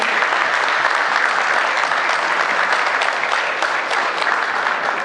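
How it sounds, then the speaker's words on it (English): Loud, sustained applause from an audience at a Women for Change stage event in Washington DC, a dense unbroken roar of many hands clapping that holds steady for five seconds. "let's give her a round of applause, everyone."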